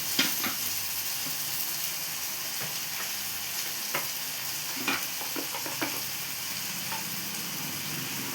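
Vegetables for a hotel-style vegetable kurma sauté in a pan with a constant soft sizzle, punctuated by several sharp spatula scrapes and taps, close up and without speech.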